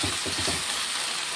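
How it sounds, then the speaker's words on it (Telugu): Ingredients fry in a pan with salt mixed in, producing a steady, close hiss and sizzle with a few soft stirring sounds early on. "చూసారా మంచిగా ఫ్రై అయిపోయినాయి కదా"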